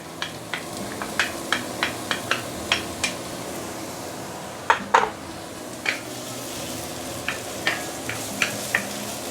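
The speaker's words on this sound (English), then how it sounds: "We are going to saute especially the shallot." Shallots sauteing in a few tablespoons of vegetable oil for a Nyonya chicken dish: a soft continuous sizzle under a series of sharp metallic clinks and scrapes of a utensil against the pan, spaced irregularly, with no talk.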